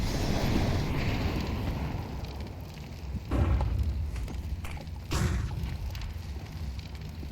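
A grenade going off on a site in Counter-Strike 2, a deep booming burst with a rumbling tail, followed by a second boom over a steady background of game noise.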